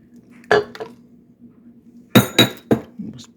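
A metal spoon clinks against a glass baking dish while soup mixture is spooned over tortillas, a few sharp separate taps and knocks close by, with a low steady hum underneath.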